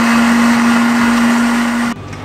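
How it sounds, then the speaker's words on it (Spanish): A kitchen blender whirs loudly and steadily as it purées carrot and other ingredients for a Peruvian salad dressing, then cuts off abruptly near the end, leaving a quiet room. "Lo vamos a licuar"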